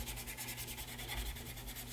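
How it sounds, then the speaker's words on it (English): Sandpaper rubs back and forth across a wooden pen blank in quick, even strokes, a soft close-up scratching rhythm with no voices. "scratch it side to side with the same grit sandpaper"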